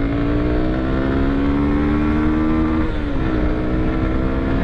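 Yamaha Crosser S 2022 motorcycle engine pulling hard under open throttle on a downhill run, a loud steady drone with rising pitch, wind rush throughout, and a brief dip near the end like a gear change.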